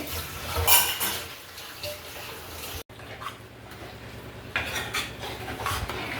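Dishes and pots clatter against each other amid running water in a home kitchen at night, with scraping and clinking throughout and a brief pause midway.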